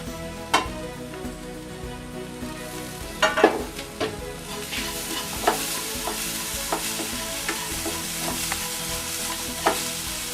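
Grated coconut sizzles steadily as it is fried in a pan for a brinjal masala curry, with a spoon scraping and stirring at irregular intervals, close and clear with no talking.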